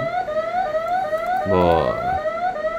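A school thermal-imaging camera system sounds its temperature alarm siren: a steady wailing tone with a brief rising whoop burst midway, heard up close while someone says a couple of words in Korean.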